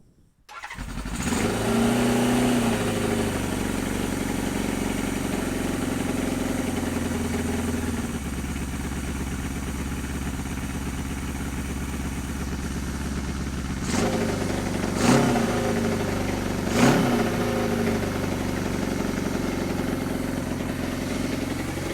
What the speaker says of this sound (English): the last thing I need to do is just give her a start up